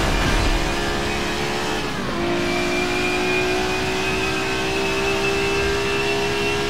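A loud Audi race car engine in Forza Motorsport 7 drones at high revs, briefly dipping as it shifts gear, then holds a steady whine; no talking.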